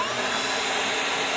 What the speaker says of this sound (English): But I want to test out the blower